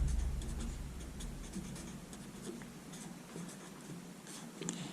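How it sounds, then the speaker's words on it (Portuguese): Faint scratching and tapping of writing on a board during a physics lesson on Newton's laws, soft and intermittent strokes close by. "então eu vou escrever assim"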